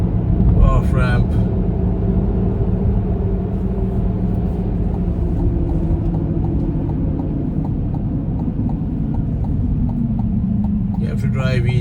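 A GMC Hummer EV SUV slows around a highway off ramp, giving a steady low rumble of road and tire noise beneath continuous talking inside the cabin.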